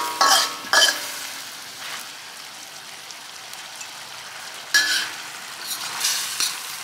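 Kale is stir-fried with canned fish in a pan, with bursts of loud sizzling and spatula scraping at the start and again near the end, and a quieter simmering crackle between them.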